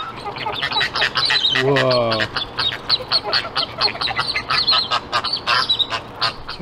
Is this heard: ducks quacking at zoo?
yes